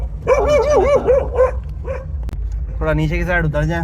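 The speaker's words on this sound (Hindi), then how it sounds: "कुत्ते भाई साहब भौंक रहे हैं" Dogs bark and yip in a rapid, wavering series, then again after a pause, loud and near, while someone talks over them during a late-night ride-hailing trip up a steep climb.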